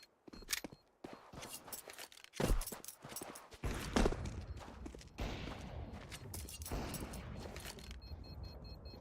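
AK rifle fire in a Counter-Strike match, with rapid bursts of gunshots in quick succession over a busy, dense mix of game sounds and faint commentary, sustained and moderately loud throughout.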